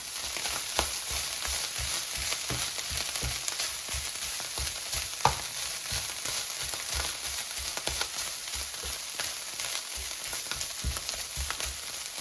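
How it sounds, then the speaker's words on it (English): Steady close sizzling of hearts of palm pasta frying in a hot pan, with occasional clinks and scrapes of stirring throughout. "So now it's sizzling."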